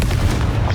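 A Confringo blasting spell going off in Hogwarts Legacy, a brief, dense booming burst with a deep rumble, loud and close throughout.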